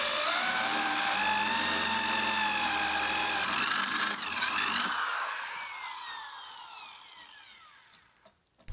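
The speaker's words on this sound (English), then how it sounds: "The final thing which I have to do to my reinforcement is to drill the holes for the screws" A power drill whines steadily, pitch rising and falling as it bores screw holes into oak, then winds down and stops, with a few small knocks after.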